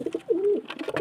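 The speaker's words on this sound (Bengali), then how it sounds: "এই যে বাচ্চা পায়রা এখানে তুলে দিচ্ছি।" A pigeon gives a short, close coo in a nesting loft, one drawn-out low murmur framed by a few softer burbling notes.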